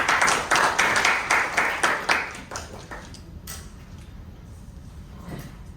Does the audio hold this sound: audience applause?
yes